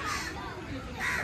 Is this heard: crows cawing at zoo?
yes